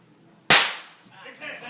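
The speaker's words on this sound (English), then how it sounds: "the bullet struck Bill in the back of the head, coming out of his left cheek" A single sharp gunshot rings out in a Wild Bill Hickok shooting reenactment, a loud crack that decays quickly into a faint, echoing tail with quiet background murmur.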